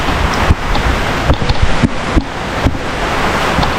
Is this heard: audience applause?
no